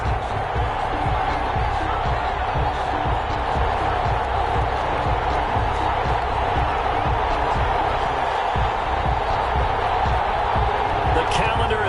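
Stadium crowd in an American football video game on PS4, Los Angeles Rams versus Detroit Lions, a steady dense roar with scattered claps and bumps running the whole time, loud and continuous.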